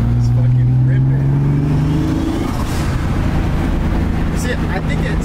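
Turbocharged M50-powered BMW E30 pulling hard, a loud engine tone climbing steadily in pitch for a couple of seconds before breaking into a dense, rumbling roar, heard close up from inside the car.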